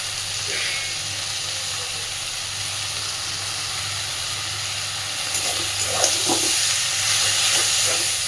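Fish fat mixed with salt and turmeric frying in a pan for a Bengali fish-fat charchari, a steady loud sizzle and hiss with occasional spatters and stirring clinks.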